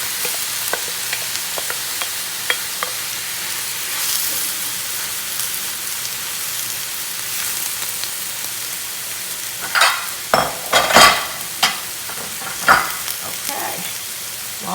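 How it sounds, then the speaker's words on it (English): Spinach sizzles and fries in a pan with green and red peppers, a steady close hiss joined later by louder clustered crackles and stirring bursts. "I'm going to just stick in my spinach."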